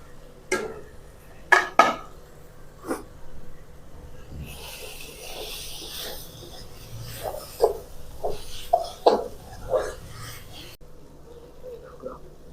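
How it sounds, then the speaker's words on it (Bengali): Fried egg being stirred with spices in a pan over a village cooking fire, scattered metallic scrapes and clinks of a spoon against the pan, with a brief hiss and voices in the background. "এখন এর ভিতরে ডিমের ভাজিটা দিয়া একটু মশলার সাথে কষাই নেব"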